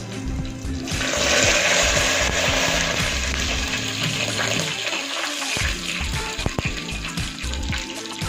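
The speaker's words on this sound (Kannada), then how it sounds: "ಇವಾಗ ನಾನು ಒಗ್ಗರಣೆಗೆ ತೊಗೊಂಡಿರೋಂಥ ಸಾಸಿವೆ ಜೀರಿಗೆ ಮೆಣಸಿನಕಾಯಿ ಕರಿಬೇವು ಎಲ್ಲನೂ ಇವಾಗ ಹಾಕ್ತಾ ಇದ್ದೀನಿ" Mustard seeds, cumin, chillies and curry leaves hit hot tempering oil for a moong dal sambar, giving a loud broadband hiss and crackle that rises after a second, then settles into steady sizzling with a few pops.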